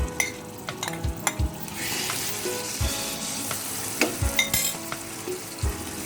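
Chicken with spices frying in a few tablespoons of oil for restaurant-style chicken macaroni, a close crackling sizzle punctuated by sharp spatula scrapes and taps against the pan at irregular intervals, no speech.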